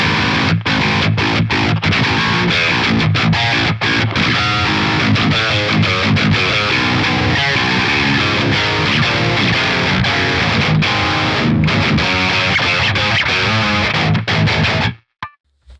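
Loud, heavily distorted electric guitar through a coil-split Corrigan HiFi XL pickup, chugging and strumming continuously with a bright, snappy tone, then cutting off abruptly at the end.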